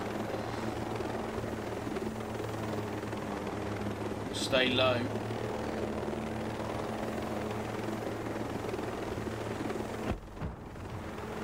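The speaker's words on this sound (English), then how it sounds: "And a helicopter coming after us as well." A helicopter in the video game Ghost Recon Breakpoint chases the player, its steady rotor drone running throughout beneath a man's speech, with a short burst of louder game noise midway.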